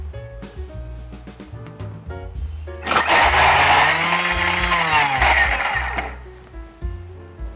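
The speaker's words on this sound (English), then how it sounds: "using the Thermomix to chop up some of my garlic and my onions" A Thermomix blade whirs loudly for about three seconds while chopping garlic and onions, a rising and falling motor roar preceded and followed by clunks and handling noises.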